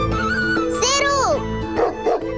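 A dog named Sheru barks and yips in short bursts close by, with people talking over it amid a busy indoor scene.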